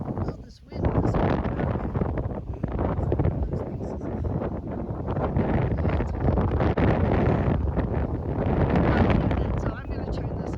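Strong wind buffets the microphone on a forested stretch of the Appalachian Trail during a southbound thru-hike, a continuous loud rumbling roar with rustling leaves, briefly dipping near the start; a voice talks underneath.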